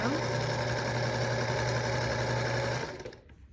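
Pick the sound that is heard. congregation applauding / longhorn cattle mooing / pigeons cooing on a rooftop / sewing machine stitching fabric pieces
sewing machine stitching fabric pieces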